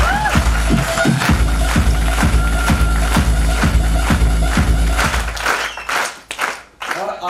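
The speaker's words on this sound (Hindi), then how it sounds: "मैं चाहूंगा एक बार जोरदार तालियां हो जाएं" Loud, rhythmic audience applause fills an indoor hall for several seconds, then thins into scattered claps and shuffling.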